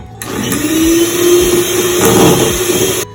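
An electric mixer whirs steadily through cake batter for 1970s-style carrot cake, a loud, close, continuous motor hum lasting about three seconds before cutting off.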